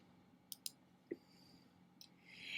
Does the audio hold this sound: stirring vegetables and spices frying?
no